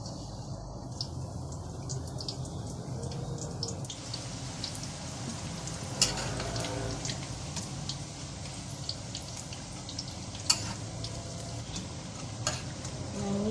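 Potato fritters (bakwan kentang) frying in hot oil give a steady, dense sizzle with scattered crackles and a few sharper pops. The sound stays moderately loud and close throughout, with no talk.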